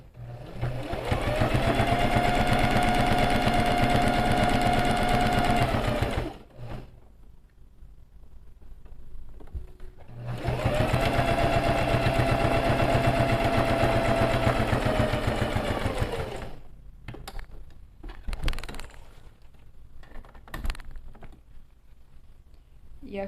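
A sewing machine runs in two long sustained bursts of steady whirring stitches, pausing between them with a few clicks, stitching a quilted matelassé diamond pattern on a fabric bag.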